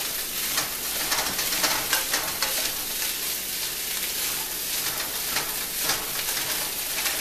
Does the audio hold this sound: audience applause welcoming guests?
no